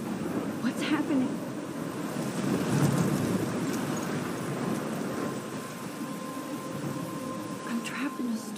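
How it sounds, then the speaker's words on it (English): Thunderstorm with steady rain in the video game Life is Strange, a continuous wash of rainfall with low rolling thunder swelling and fading throughout. "I'm trapped in a storm?"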